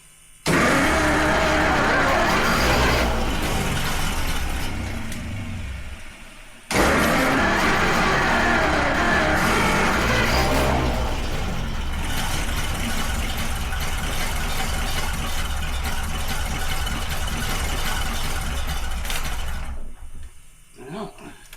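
The engine of a 100-year-old moonshiner's car, parked for 55 years, runs loud and close with a rough mechanical clatter, dropping briefly before picking up again at a steady pace instead of climbing into a rev, then cutting out.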